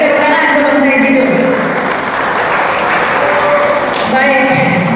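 An audience applauds Said Didu at a forum, the clapping loud and sustained across the whole stretch, with voices and crowd noise mixed in underneath.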